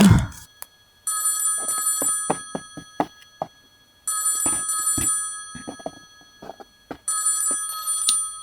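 A red toy telephone in a Playmobil story rings in three repeated bursts of electronic trilling, clear and close, with short pauses between each ring.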